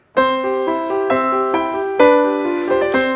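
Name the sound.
piano played by a 9-year-old child after lessons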